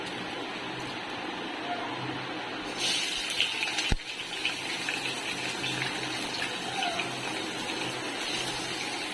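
Prawns frying in hot oil for a Bengali jackfruit-and-prawn dish, a steady close hiss and bubbling that swells louder after a few seconds, with a sharp clack midway.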